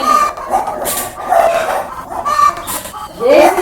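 A rooster clucks and calls in short, uneven bursts close to the microphone, with other animal sounds mixed in around it.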